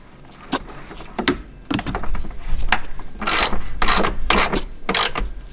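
A ratchet tightens a 13mm nut onto the battery post of a 2015-2022 Chevy Colorado or GMC Canyon, clicking in quick bursts of pawl clatter between pauses and growing louder and more rapid toward the end.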